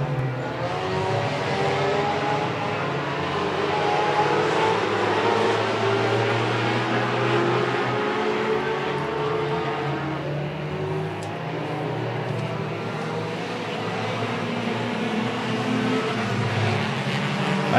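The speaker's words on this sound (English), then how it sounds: "And here comes the 42 car of Tristan Finnegan" Race cars roar around an oval track during a feature race, a loud continuous engine drone with cars passing close and the pitch swelling and fading, heard without talk.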